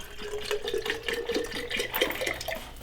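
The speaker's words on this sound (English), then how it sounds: "So instead of adding water, we're adding beef stock" Beef stock being poured into an Instant Pot while making spaghetti and meatballs, a steady close splashing liquid stream with bubbling gurgles running throughout.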